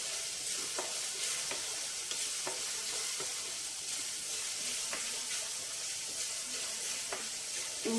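Chopped onions fry and sizzle in a pan for a Telugu prawn and greens curry, a steady hiss with occasional soft stirring clicks, close and continuous with no talk.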